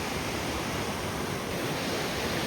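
Steady broadband rush of the fast-flowing Parvati River on the Sar Pass trek, loud and continuous with no gaps, like a mountain river churning over rocks close by.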